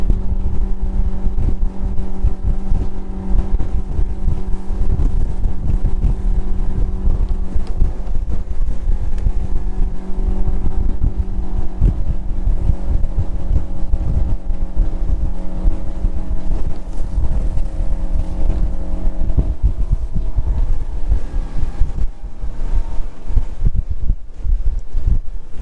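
A Bennington TriToon 24SX pontoon boat runs at speed, around 34 to 37 mph, with a steady, loud engine drone and rushing wind and water noise that hold throughout, easing slightly near the end.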